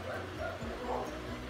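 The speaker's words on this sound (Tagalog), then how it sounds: "habang maingay yung aso" A dog barks and yips in short bursts mixed with whimpers, close by and fairly continuous, with someone talking faintly underneath.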